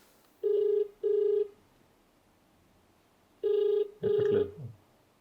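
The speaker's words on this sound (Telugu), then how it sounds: "ఒకసారి ఫోన్ చేస్తాను." Ringback tone on an outgoing phone call: four steady electronic ring bursts in two pairs, separated by a pause of about two seconds, clear and fairly loud with no talk over them.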